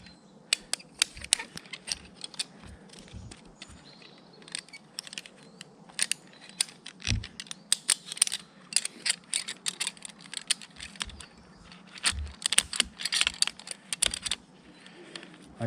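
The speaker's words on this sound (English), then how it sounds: "So I'm going to attach the Petzl Simple now, descender." Petzl Simple rope descender being attached for rope work: irregular metallic clicks, clacks and rattles of hardware handled close up, in bursts with brief pauses and no talk.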